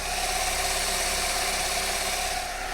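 An Alfa Romeo 159 with the 2.2 JTS petrol engine idles after a timing chain replacement, a steady, even mechanical hum and whir recorded close up and continuous throughout.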